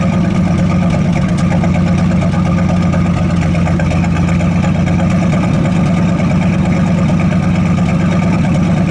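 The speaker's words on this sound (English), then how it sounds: "It sounds like we got a little high idle." A 1972 Buick GS 455 Stage 1 V8 sits at a steady high idle, its loud, even rumble running continuously close by with no talk over it.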